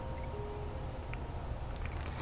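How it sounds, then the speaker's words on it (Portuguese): Frogs call at night in a forest in the United States, a steady, continuous high trilling chorus with faint scattered chirps, no voices heard. "Olha esses barulhinhos de sapo"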